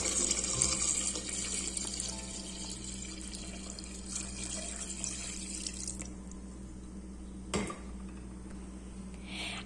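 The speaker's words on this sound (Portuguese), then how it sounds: "Cubra com água até ficar uns 2 dedinhos para cima da carne." Water runs steadily into a pot over pieces of meat as braised beef is started in a Rochedo pressure cooker, a continuous close splashing stream with a brief clatter near the end and no talk.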